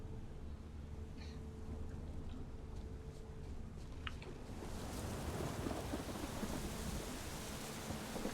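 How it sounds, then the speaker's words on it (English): Thunder rumbles and rain pours during a scripted storm in The Witcher 3, the low roll building into a loud, dense downpour that swells in the second half and fills the scene. "A scripted storm."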